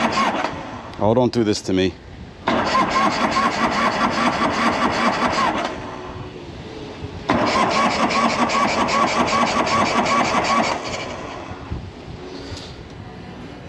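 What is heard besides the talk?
1984 Harley Davidson FLT Tour Glide engine being started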